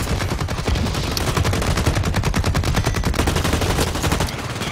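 Rapid automatic gunfire from a gun in a first-person shooter video game, a loud continuous burst of closely spaced shots running almost the whole time before easing at the end.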